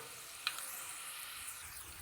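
Hot tempering is stirred into wild lemon pickle, giving a faint, soft sizzle throughout with one small click of a utensil near the start.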